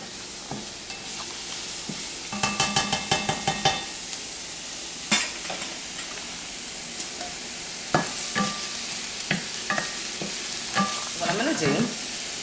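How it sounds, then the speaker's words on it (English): Shallots sauté in a pan under a steady soft sizzle, broken by bursts of stirring and scraping from a utensil at intervals, close and fairly quiet. "Let my shallots saute for about another minute."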